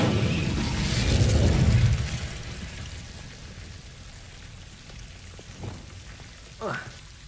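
The Incendio fire spell in Hogwarts Legacy bursts out as a loud whooshing blast of flame that crackles and fades, followed by a couple of softer magical whooshes over a low ambient hum, with a voice speaking under it.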